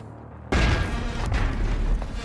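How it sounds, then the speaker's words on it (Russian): An ion catapult fires in a video game: a sudden loud, broad blast cuts in after half a second of quiet background and carries on as a dense, rumbling roar to the end. "Ионная катапульта не предназначена для стрельбы нестандартными снарядами."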